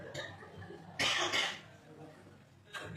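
A single sharp cough bursts out, followed by a second softer cough, with another short cough near the end, between stretches of quiet low murmur in a talk setting.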